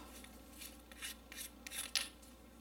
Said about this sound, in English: So, now if we unscrew this, we should have a battery pre-installed.